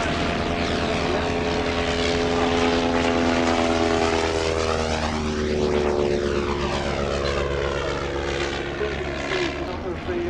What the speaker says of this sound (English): they've been joined by a 3rd aircraft, which is the Sopwith Triplane